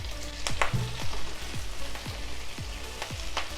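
Chopped green chilies frying on a high flame in a pan, a steady close sizzle broken by regular clinks of a spatula against the metal.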